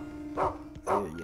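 A dog in a video game gives two quick, close barks about half a second apart, each a sharp bow-wow over a faint steady background tone.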